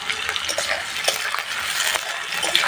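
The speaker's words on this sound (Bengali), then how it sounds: "পেঁয়াজ কুচি দিয়ে দিলাম, দিয়ে একটু নাড়িয়ে নিব" Chopped onion sizzles loudly in a frying pan as a spoon stirs it, with a dense hiss and quick little scrapes and clinks close up.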